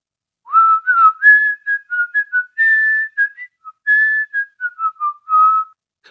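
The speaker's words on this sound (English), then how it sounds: "One of them was whistling Lillibullero." A man whistles the tune Lillibullero, a clear melodic run of sustained and short notes, close and alone with no other sound.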